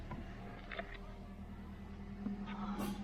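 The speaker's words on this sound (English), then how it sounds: "you can see the car is running" A Toyota Corolla engine idles with a low, steady hum close by for a few seconds, and some light background noise sits over it.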